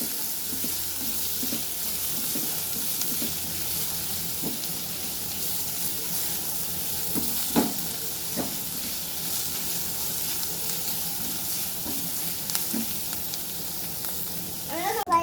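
Raw vegetables for veg chowmein sautéing in oil, a steady broadband sizzle running throughout with occasional sharper clinks and spikes from stirring, and a louder scrape near the end.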